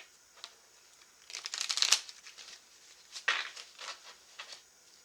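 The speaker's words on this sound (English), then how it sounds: "Gonna shuffle this real quick." A tarot deck being shuffled by hand: two or three quick bursts of papery riffling and card slaps, close and fairly quiet, separated by brief pauses, with no talking.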